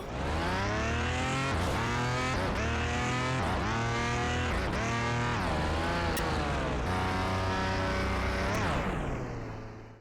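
A car drives hard in the WDAMAGE crash simulation game: a loud, steady engine drone revs up and down in repeated rising sweeps, with tire squeal mixed in and no voices.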